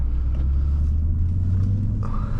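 A 2003 Jaguar S-Type R pulls away, its engine a low, steady rumble heard from inside the car, with no talking.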